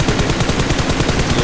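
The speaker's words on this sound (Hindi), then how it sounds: "गोलियां तो चलाई बट वो गोलियां इतनी कुछ खास इसे यहाँ पे लगने वाली नहीं है" Rapid automatic gunfire in PUBG Mobile, played in a team deathmatch at the Power Plant on the Livik map, rattles in a fast continuous burst, loud and close.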